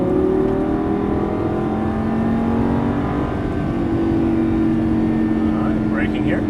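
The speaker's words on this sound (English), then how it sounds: "Back on that throttle, hard on the throttle." A Lamborghini Gallardo LP550-2 engine pulls hard under full throttle, its loud, steady tone rising in pitch over several seconds while someone talks over it.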